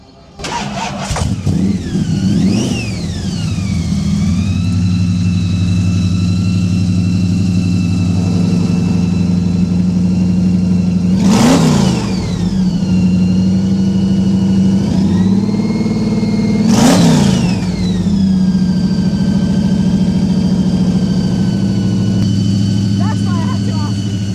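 Custom car's 460 big-block engine starting at an outdoor fifties car show: a cranking start, then a loud idle broken by several sharp revs that rise and fall, with talk nearby over the rumble.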